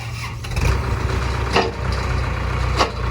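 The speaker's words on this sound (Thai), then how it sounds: "เดี๋ยวเรามาฟังเสียงเครื่องกันเลยนะคะ พร้อมดูระบบไฮดรอลิกของคูบต้า L5018 ตัวนี้ค่ะ" A Kubota L5018 tractor engine turns over and catches, settling into a steady low diesel rumble with a couple of sharp mechanical bursts, heard close and alone.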